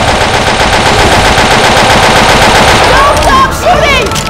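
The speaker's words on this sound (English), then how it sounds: "Don't stop shooting!" Loud, continuous automatic gunfire in a first-person shooter video game comes in a dense, rapid stream close up, with a voice shouting over it near the end.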